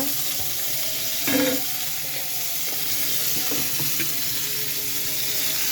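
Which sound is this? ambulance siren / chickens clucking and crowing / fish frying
fish frying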